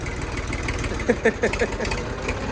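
A tractor engine runs at a steady idle on a farm, its low rumble continuous and fairly close, with a few brief knocks rising over it and no talk.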